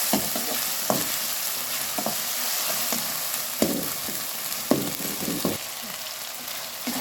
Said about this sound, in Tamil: இஞ்சி பூண்டு நல்லா வாசனை வர வரைக்கும் நல்லா வதக்கிக்கோங்க